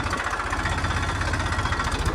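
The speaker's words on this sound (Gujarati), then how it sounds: "ચાલો તો લઈ જઈએ ટ્રેક્ટરને અહીંયા" A tractor engine idles up close with a steady, rapid low-pitched chugging that holds even and loud throughout.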